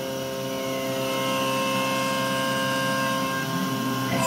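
A Langmuir Systems MR-1 mill slots full width through CPM 154 stainless steel at 8,000 RPM and 77 inches per minute, giving a steady, high-pitched whine with a harmonic, buzzing tone close by and a gradual rise in loudness.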